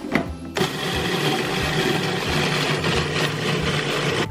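Blender grinding shredded coconut into flour, a steady whirring motor drone starting abruptly after a brief pause and holding loud and even to the end, with no talk.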